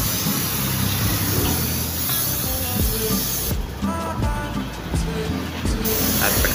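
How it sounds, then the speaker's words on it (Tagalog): A spray gun lays clear top coat onto a vehicle mud flap, giving a steady, loud airy hiss that runs unbroken through the whole stretch with no talking. "Bali ito pa lang yung top coat clear na sinasabi ko at ready na natin itong i-spray dun sa ating tapalodo."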